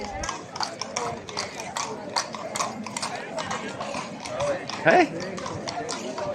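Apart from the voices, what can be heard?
horse and cart clip-clopping on street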